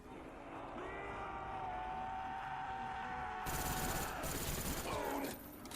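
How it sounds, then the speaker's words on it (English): RPK light machine gun fire against zombies in the Verruckt zombies game: a loud burst of automatic shots cuts in partway through, over a steady game soundscape with droning tones. "I'm going to be killing most of the zombies with the RPK at this point."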